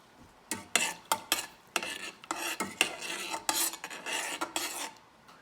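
A spoon stirs violet blossoms gently through a pot of water, making irregular scraping, swishing strokes in short bursts, close and fairly quiet, with no voices.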